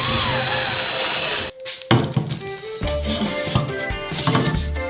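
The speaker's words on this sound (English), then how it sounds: "Now you need to cut the plywood for the walls with an electric jigsaw." An electric jigsaw cuts plywood wall pieces, a buzzing motor that stops briefly and then restarts with rough rattling chatter as the blade works through the sheet, close and fairly loud with no speech.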